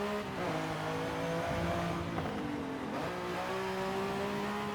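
A fast car in Forza Horizon 5 revs and accelerates with a close engine note that rises and falls through gear changes, shifting pitch several times as it drives on.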